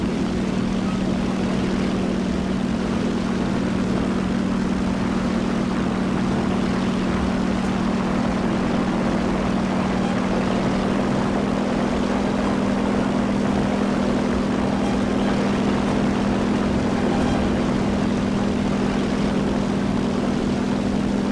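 Propeller aircraft engine in the War Thunder flight game, a steady loud drone with a strong low hum held evenly throughout while the plane levels out, no voices present.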